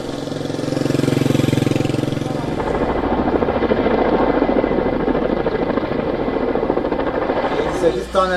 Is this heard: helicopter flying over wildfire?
yes